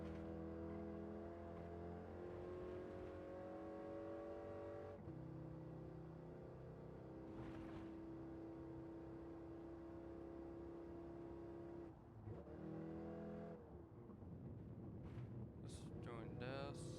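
Minivan engine idling and revving in the racing game Gran Turismo 7, a steady droning tone that shifts pitch partway through and runs continuously, fairly loud.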